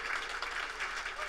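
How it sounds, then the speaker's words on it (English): A supper club audience in Cleveland applauds Bob DiBiasio, and a brief, dense burst of steady clapping carries on without pause. "big round of applause for Bob DiBiasio"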